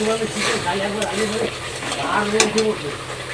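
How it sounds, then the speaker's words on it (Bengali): Spice paste frying and being stirred until the oil separates makes a close, steady sizzle with repeated scraping strokes of a spoon against the pan, and a voice talking over the cooking in places. "ভালো করে মশলাটা কষিয়ে নিয়েছি, দেখেছো, তেল তেল ছেড়ে গেছে মশলাটায়"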